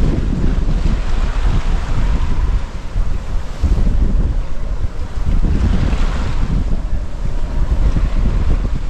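Strong wind gusting to 27 knots roars steadily across the microphone aboard a sailboat at sea bound for Fiji, with rushing water and wave noise underneath, loud and continuous.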